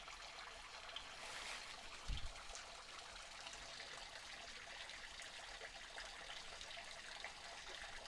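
Clear creek water trickles steadily on a secluded Missouri acreage in Laclede County, a soft, continuous wash of flowing water heard alone, with one brief low thump partway through.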